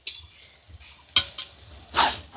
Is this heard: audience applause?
no